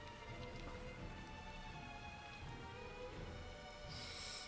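Steady rain hisses on the ground in Hyrule Warriors, falling from a cloud summoned by a character, faint and continuous, with a brief brighter splash near the end.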